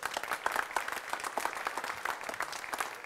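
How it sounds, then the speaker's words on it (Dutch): An audience at a university discussion event applauds an invited central bank president, a dense, even patter of many hands clapping that continues throughout. "Geef hem nu maar alvast een applaus."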